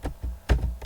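A few quick keystrokes on a computer keyboard while typing code, soft close clicks in a short uneven burst.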